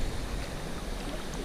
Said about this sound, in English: A lot of water rushing over, and it's possible we might have come to Leah's chutes.